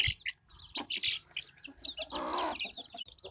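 Native hens and chicks cluck and chirp busily while pecking at leftover homemade chapati, the calls close and overlapping in quick bursts with a louder stretch of clucking in the middle.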